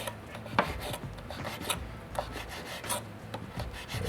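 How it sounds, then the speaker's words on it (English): A knife chops two slices of pre-cooked bacon on a board with repeated close scraping, rasping cuts in an irregular rhythm, fairly quiet and with no talking. "Just chopping up 2 slices of bacon there. This is pre-cooked bacon."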